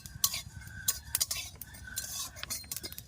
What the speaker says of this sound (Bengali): আর একটু লাল লাল করে ভেজে নেব।